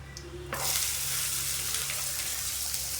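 Onions and three cut green chillies drop into a hot pan and burst into a loud, steady sizzle that carries on evenly after a quieter start, with no voices.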